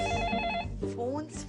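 A telephone rings indoors in a home, a steady repeating electronic tone over the first half second, with people talking throughout.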